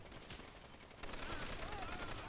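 Rapid gunfire crackles through a Call of Duty: World at War battle, a dense rattle of shots that grows louder and busier halfway through, with a faint whistle over the top.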